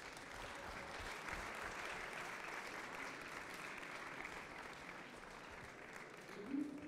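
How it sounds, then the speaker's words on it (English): Audience applause fills a conference hall at a talk on digital fabrication and disability, a sustained, even wash of clapping heard from within the crowd at low level. "we get them a very sincere, from our side, round of applause"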